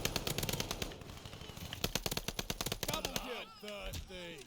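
An H4 Blixen rifle fires in rapid automatic bursts in Call of Duty Vanguard, a loud, tight rattle of shots running for about three seconds before a voice takes over.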